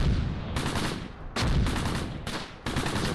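Bursts of gunfire in a WWII Normandy tactical strategy game, several dense loud volleys separated by brief gaps, with no talk over them.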